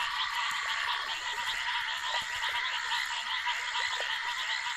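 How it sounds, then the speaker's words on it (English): Foam frogs call in a dense, continuous chorus at night after heavy rains in the Zambezi region during breeding, a steady pulsing croaking with no other sounds. "In response to the rains, the foam frogs launch their sexual orgies."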